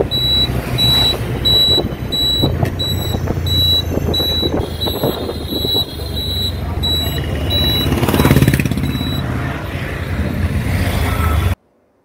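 An auto rickshaw rides through Kolkata traffic toward Khudiram metro station, with a steady close engine rumble and road noise throughout and bursts of high electronic beeping from nearby vehicles repeating over the first half.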